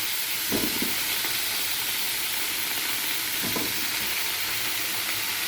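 Potato and pointed gourd sizzle steadily in a pan of oil, a loud continuous frying hiss with two short scraping stirs near the start and middle.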